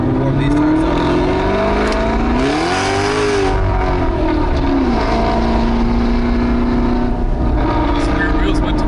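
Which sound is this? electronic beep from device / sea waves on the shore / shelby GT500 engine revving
shelby GT500 engine revving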